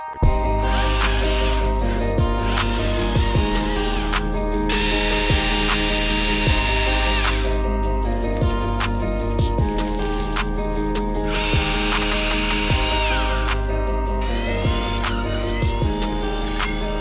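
A STIHL cordless saw cutting young trees during forest stand thinning, a loud close electric whine that rises in repeated bursts of several seconds, dropping between cuts, with wood-cutting rasp and no talking.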